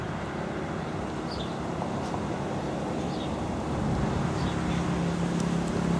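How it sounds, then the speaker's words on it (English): Steady wind noise fills an outdoor parking lot at a beach resort villa complex in Kihei, Maui, with a low rumble of cars passing nearby, a vehicle swelling louder toward the end. "You can hear a few cars go by, and it's a windy day."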